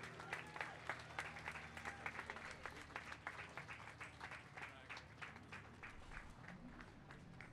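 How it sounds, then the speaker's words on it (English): A 4th of July parade crowd in Old Town Temecula applauds the Temecula Equine Riders with steady, moderately distant clapping, some whoops mixed in, and a hoof-like thud near the end. "give a round of applause to the Temecula Equine Riders"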